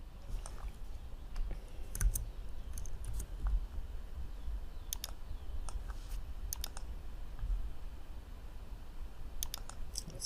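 Typing on a computer keyboard comes as scattered, quick key clicks in short bursts over a low steady hum, fairly close and quiet, with no talk.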